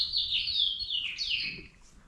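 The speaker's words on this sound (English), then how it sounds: "Birds up here yelling at me" Birds call outdoors, a couple of sharp, descending high-pitched chirping phrases close by, with faint background noise and no speech.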